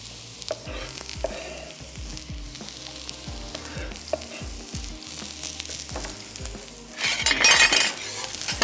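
A large onion fries in oil in a pan, with a steady sizzle and frequent clinks and scrapes from stirring, swelling into a louder burst of crackling hiss toward the end.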